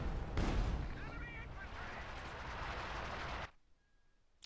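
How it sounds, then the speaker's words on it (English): A long-range artillery strike lands in a Company of Heroes match, with heavy booming blasts and sustained rumbling battle noise that cuts off abruptly near the end. "big long-range artillery strike straight into the centre in the heart of Noggano's base"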